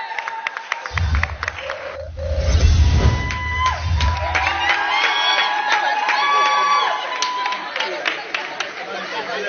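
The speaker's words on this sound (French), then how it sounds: "sous vos applaudissements, je vais inviter le pasteur Marcelo Tunassi" A church audience claps and cheers to welcome a pastor at an evening service, with a noisy swell of applause and whoops mixed with voices, fading into chatter.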